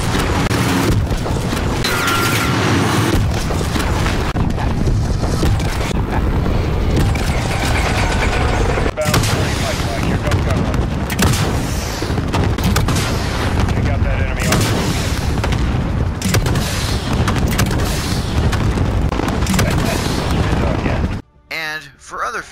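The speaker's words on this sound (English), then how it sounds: "Exploding." Explosions and rattling gunfire in a Call of Duty: Modern Warfare mission against terrorists, a dense, loud, continuous barrage of booms and mechanical clatter lasting throughout before cutting off abruptly near the end, with voices mixed in.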